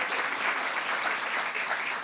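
An audience at a comedy show applauds with dense, steady clapping that fills the room and holds at an even level without letting up.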